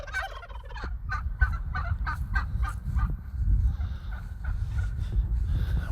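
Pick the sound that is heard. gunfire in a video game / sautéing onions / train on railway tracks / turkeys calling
turkeys calling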